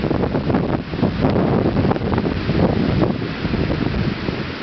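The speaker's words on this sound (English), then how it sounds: "The wind isn't even that quarter of what it was." Strong wind during a Pasadena wind storm roars continuously and loudly, buffeting the microphone in rough, gusty surges without any talking.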